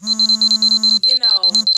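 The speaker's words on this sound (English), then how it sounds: "that was my alarm" A phone alarm goes off with loud, rapid repeated beeps in a steady pulsing pattern. Its tone shifts partway through, and someone talks over it briefly.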